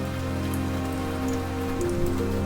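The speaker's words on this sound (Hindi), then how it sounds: "इतनी तेज बारिश" Heavy rain pours steadily in an animated Hindi moral story, a constant wash of falling water blended with a sustained background music score and no talking.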